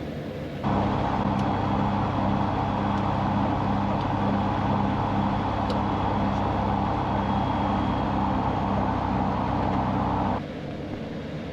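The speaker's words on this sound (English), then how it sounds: "I'll do some engine checks." Light aircraft engine running during engine checks on the ground near a runway, a loud steady drone that holds for about ten seconds before dropping back to a lower idle.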